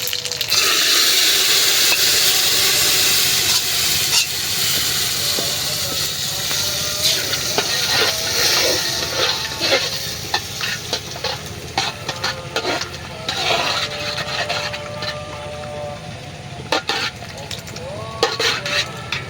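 Cabbage fritters deep fry in a pan of oil with a loud, bright sizzle that gradually settles into a softer crackle, with occasional clinks and a person talking nearby.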